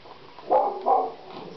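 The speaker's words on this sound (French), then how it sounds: "Le chien du voisin aboie." A neighbour's dog gives two short muffled barks in quick succession, heard faintly from a distance through walls in an otherwise quiet indoor room.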